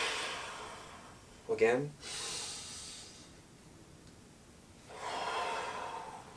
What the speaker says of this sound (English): Inhale, reach up. Exhale.